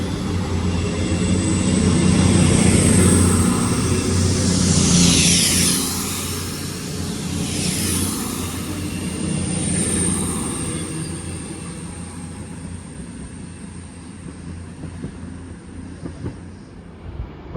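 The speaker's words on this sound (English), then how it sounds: "here comes the 10:21 cross-country service to Manchester Piccadilly from Bristol Temple Meads" A CrossCountry passenger train from Bristol Temple Meads to Manchester Piccadilly pulls into Stoke-on-Trent with a heavy rumble and sweeping, whining tones that rise and fall, then fades into quieter rolling noise.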